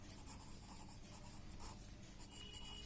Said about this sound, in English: So we will write answer here.